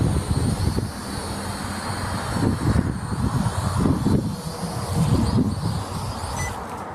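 Steady wind roars and buffets a microphone outdoors while an SG106 drone is flown, a broad low rumble with gusty surges throughout, loud and continuous.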